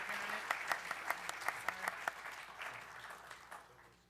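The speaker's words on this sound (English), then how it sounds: "Please give them a warm round of applause." Applause from a university audience with distinct claps at first, then a softer, thinning wash that fades out, fairly faint overall.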